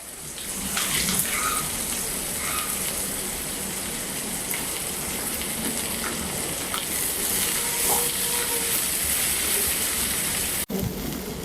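Sliced onions sizzle and crackle steadily in hot oil in a pan while pepper chicken is being cooked, a dense, even frying hiss that stays close and loud throughout with no talking.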